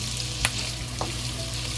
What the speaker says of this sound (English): slowly fry and roast it the sausage